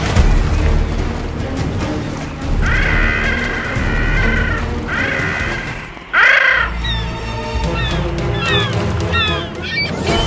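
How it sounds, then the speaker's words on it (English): Gulls squabbling at the shore, with harsh overlapping squawks and mewing calls in bursts over a loud, rumbling wash of background noise. "Gulls squabble,"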